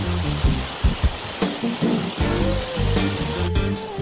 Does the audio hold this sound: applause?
no